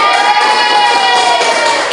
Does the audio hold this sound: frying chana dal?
no